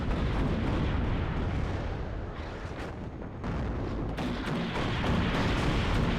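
2A3 artillery firing during a large multiplayer battle in the video game WARNO: a dense, continuous roar of heavy booms and blasts that stays loud throughout, with no clear gaps between shots.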